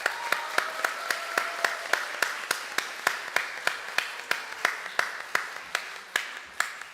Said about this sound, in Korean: 우리 다 같이 박수하겠습니다